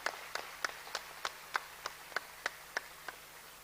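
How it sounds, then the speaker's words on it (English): Sparse hand claps from an audience at an academic appreciation and thanksgiving event, about a dozen distinct claps in a slow, even rhythm, faint and somewhat distant. "Please give them a big round of applause."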